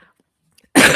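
A single sharp cough bursts out close and loud at the very end, after near silence.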